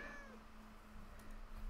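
A cat meows in the video game Minecraft, with a short, clear mew at the start that fades into quiet background hum, with no talking.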